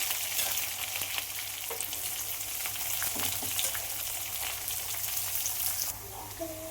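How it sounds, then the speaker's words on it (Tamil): Curry leaves and onion fry in hot oil with a steady, loud crackling sizzle and occasional stirring clinks, close by, easing slightly near the end. "கருவேப்பிலை போட்டுட்டு உடனே வெங்காயத்தை சேர்த்துக்கிறேன்"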